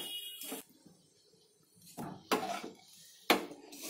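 A spoon scrapes and clanks against a pan while chira pulao is mixed, making a few short, separate metallic strokes with quiet gaps between them, heard close and fairly soft.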